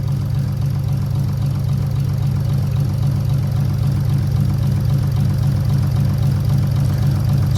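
Car engine running on an ECUmaster EMU Black standalone ECU, idling just after starting: a loud, close, steady low rumble with a fast even pulsing beat and no talk.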